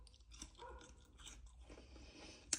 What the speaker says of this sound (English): I'm going to crunch on it now.